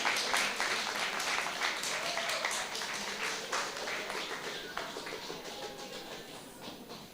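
Applause from the audience at a primary school spelling bee, a steady wash of many hands clapping at moderate distance that fades slowly over several seconds.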